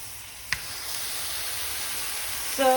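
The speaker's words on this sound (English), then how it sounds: "we're just going to add it to the frying pan without any oil." Kebab meat sizzles in a dry frying pan with no oil, giving a steady, moderate hiss with a brief tap near the start and a short voiced sound toward the end.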